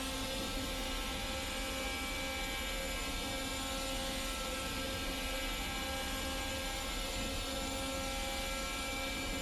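A Race Sim Studio Formula Hybrid 2020 hybrid race car engine drones at a steady high pitch, a constant whining tone with rich harmonics sustained loudly throughout with no pauses.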